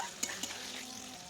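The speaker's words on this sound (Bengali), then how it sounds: "টমেটোটা দেওয়ার পর আমি টমেটোগুলোকে হালকা করে ভেজে নেব" Tomatoes fry lightly in a pan for a pabda fish curry, a soft, steady sizzle with a couple of quick stirring scrapes near the start.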